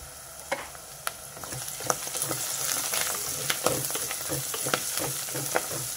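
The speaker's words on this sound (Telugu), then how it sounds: "మెంతికూర ఇంకొంచెం వేగాలి. మెంతికూర, ఉల్లిపాయలు వేగిపోయినాయి." Fenugreek leaves and onions fry in oil in a pan, a soft continuous sizzle broken by regular sharp taps and scrapes of stirring, fairly quiet and heard alone without talk.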